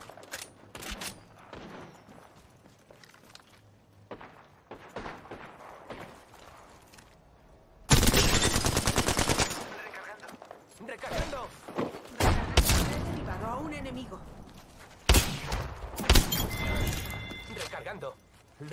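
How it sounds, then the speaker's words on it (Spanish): Gunfire in a video game shooter, with scattered single shots early and then dense rapid bursts of automatic fire and impacts in loud clusters, while a person talks intermittently. "De momento me están disparando."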